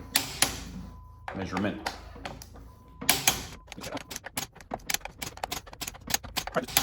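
A torque wrench clicks repeatedly as it reaches set torque on bolts while a 1982 Porsche 911SC is reassembled; sharp, close mechanical clicks come in quick succession after a stretch of talk.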